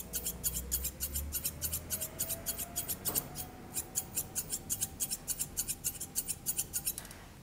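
Grooming scissors snip rapidly through the facial and head coat of a Moodle, a Maltese-poodle cross, in crisp, close, evenly spaced cuts that continue throughout with no talking.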